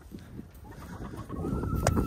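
Chickens in a backyard coop cluck and murmur close by, with a rising call near the end over steady low rustling; no talk.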